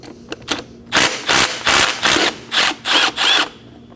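A 12mm socket on a ratchet or driver removes a bolt on a 2011-2016 Kia Optima during an oil pressure switch replacement, with about seven short, loud mechanical bursts in quick succession after a few faint clicks.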